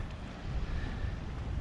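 Ocean waves wash at a resort shoreline, a soft, continuous surf rumble blended with wind buffeting the microphone, with no voices.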